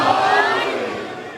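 A large religious gathering at a Muharram majlis shouts a slogan together, a loud, sustained mass of voices that slowly tapers off.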